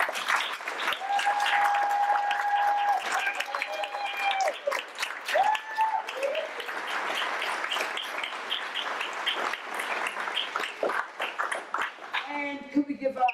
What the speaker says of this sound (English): You would give Charlie one more round of applause.